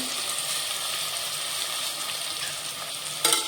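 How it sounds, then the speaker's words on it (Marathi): Carrots, peas and cauliflower fry in oil for a vegetable biryani, giving a loud, steady hiss close by, with a brief clatter of stirring at the end. "आपण तेलात सगळं भाजून घेऊया"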